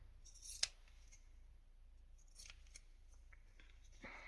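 Quiet snips of craft shears trimming chiffon lace on a decorated journal card, with a couple of short cuts separated by soft handling noise, close and faint.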